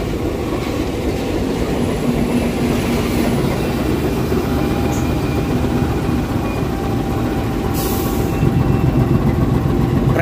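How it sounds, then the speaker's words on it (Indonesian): The Motis Selatan freight train, hauled by a locomotive, rolls into Karangsari station with a loud, continuous rumble of wagons and engine and faint rhythmic wheel clatter, close by throughout. "Kereta api Motis Selatan saat ini sudah tiba dan berhenti di stasiun Karangsari."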